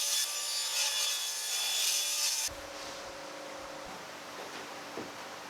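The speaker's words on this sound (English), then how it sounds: "I'll just cut those angles on the miter sled" Handsaw or saw blade cutting angled ends on a wooden bed board in a miter sled, a loud steady rasping cut for about two and a half seconds, then a quieter tail of residual noise with a faint tone.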